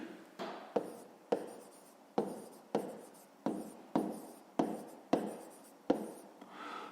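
A pen scratches across paper in a fifth-grade maths exercise, about a dozen short, evenly spaced strokes sounding close and quiet, with no talk over them.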